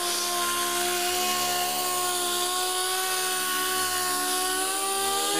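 A Quick Cut wet sander color sanding a painted panel gives a steady, loud, close high-pitched whine that holds near constant speed with slight dips.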